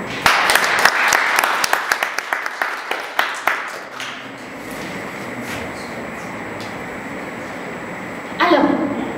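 A panel-event audience at Festigora applauds someone speaker with rapid, loud, distinct claps for about four seconds. The clapping then fades into a low room hum, and a voice is heard briefly near the end.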